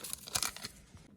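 A small vanilla sugar packet is torn open close by, a quick crisp rip lasting about a second before quiet.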